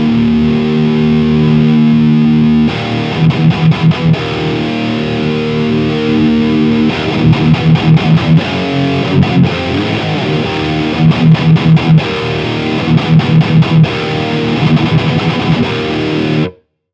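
A Mesa Boogie Mark IIC++ reissue guitar amp set for a dark, big distorted tone. It plays loud, heavily saturated sustained chords broken by bursts of tight palm-muted chugging, then cuts off abruptly at the end. No talking.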